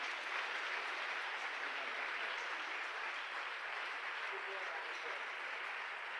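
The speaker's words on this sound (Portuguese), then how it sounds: "Dê um forte aplauso ao Senhor por isso." A congregation at a church conference applauding, a continuous, even roar of many hands clapping that sounds broad and somewhat distant, sustained without a break, with voices faintly mixed into the crowd noise.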